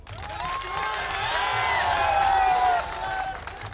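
A crowd at a political event in Azamgarh, Uttar Pradesh, claps and cheers with overlapping shouts that swell and hold before dropping off near the end.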